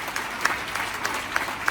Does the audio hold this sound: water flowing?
no